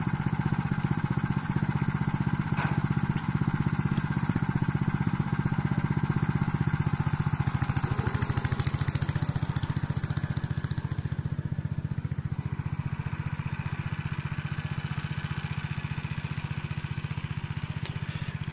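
A walking tractor pulling a harrow across an uneven garden plot, its small engine chugging at a steady speed in a continuous buzzing drone, close and loud, with a brief rougher patch partway through.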